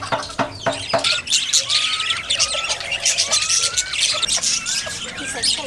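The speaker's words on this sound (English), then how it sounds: "So many birds." Many birds chirp and call near a bridge over a river in Malaysia, a dense chorus of rising tweets and squawks layered under background noise.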